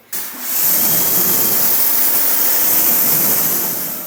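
VE52 pressure washer running steadily through a car wash on an Imola Red G80 M3, a loud continuous hiss and spray that starts abruptly and holds level, with no talking.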